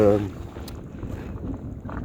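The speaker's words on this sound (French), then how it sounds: "là il y a du vent" Wind buffets the microphone in a low, steady rumble while kayaking on the St. Lawrence River, with a brief voice at the start.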